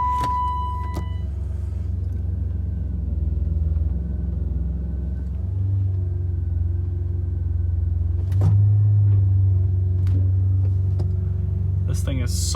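A BMW 850 with a 5-liter V12 rumbles at idle in a garage, a steady low-pitched drone running throughout with a brief swell near the middle, while a person talks faintly over it.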